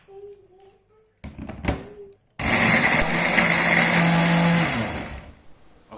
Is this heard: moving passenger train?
no